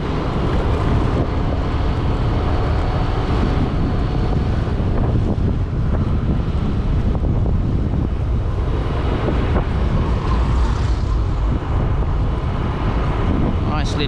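Steady breeze buffeting the microphone at Jomtien Beach in Pattaya, a constant rushing roar with calm water nearby and no break throughout.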